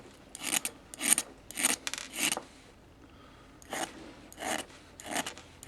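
Carbon stone rubbed by hand against the foot of a fishing rod guide on a lathe, giving short raspy scraping strokes in quick bursts of three, a pause, then more strokes, close and clear.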